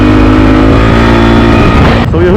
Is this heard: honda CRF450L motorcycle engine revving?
yes